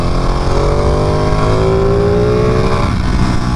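A Ducati Panigale 959 motorcycle engine revving with a loud, steady drone that climbs smoothly in pitch, then settles, heard close with no talking.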